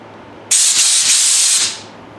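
A loud burst of compressed air blasts through a fuel line while it is cleared out during a carburetor-to-fuel-injection conversion, a steady close hiss lasting about a second before tapering off.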